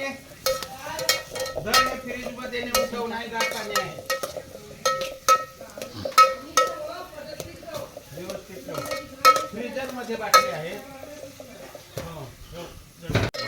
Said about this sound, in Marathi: कांदा आपण तेलावर टाकलेत तर कांदा भुजून घ्यावा